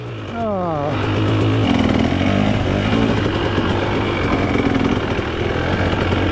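A motorcycle without studded tires rides over ground with a light first dusting of snow, its engine revving up in a rising whine and then holding a steady, loud, close drone that continues throughout.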